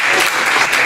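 An audience at a startup pitch night applauds in a dense, steady wash of clapping that fills the whole moment, loud and close, with no voices over it.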